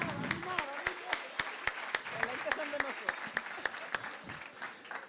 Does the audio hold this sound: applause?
yes